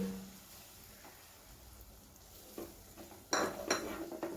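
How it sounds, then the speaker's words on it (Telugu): Eggs being stirred into fried masala in a pan: soft scraping at first, then a cluster of louder metallic clinks and scrapes of a utensil against the pan toward the end, with no voices. "ఎగ్స్ వేసాక కొద్దిసేపు అలాగా ఇలా కలిపేసి అలాగే వదిలేయాలండి"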